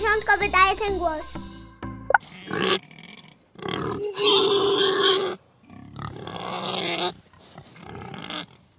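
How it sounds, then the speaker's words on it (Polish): Pig grunting and snorting in several bursts of varying length, fairly loud and close, following a short musical jingle at the start, with no talk over the animal. "Brawo, to świnia."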